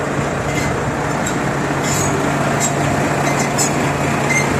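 A Volvo truck at a container yard idles with a steady, loud, low engine drone, constant throughout with faint higher clanks.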